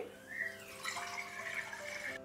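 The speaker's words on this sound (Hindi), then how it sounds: "एक बर्तन लेंगे, उसमें पानी डाल देंगे" Water pours steadily from a tap into a cooking pot in a home kitchen, a continuous soft splashing rush that runs for a couple of seconds, fairly quiet and close, with no talk.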